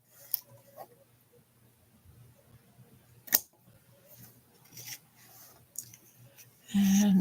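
Scissors cut paper ribbon during card-making, with a few sharp snips and faint rustling at a quiet level, and a louder burst of handling noise at the end.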